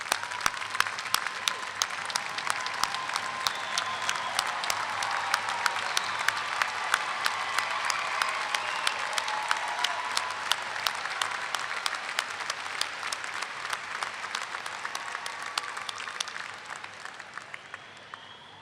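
Families and friends at the 2017 Rider University undergraduate commencement clap in a large, sustained ovation that fills the hall evenly before tapering off in the final seconds.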